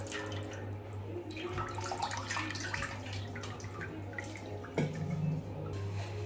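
Running water rinses brass utensils after cleaning, a steady splashing stream with small clinks and drips, close and moderately loud against a low background hum.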